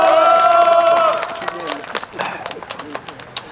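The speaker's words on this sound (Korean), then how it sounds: "박수 좀 치십시오." A crowd claps at an anti-election-fraud rally in Mungyeong, South Korea, with a burst of applause and scattered claps fading behind a speaker's amplified voice.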